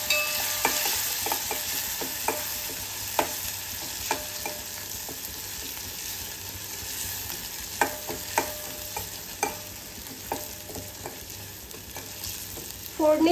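A tempering for kokum kadhi with curry leaves and a quarter spoon of turmeric frying in hot oil, a steady close sizzle punctuated by scattered spatula taps and stirring scrapes.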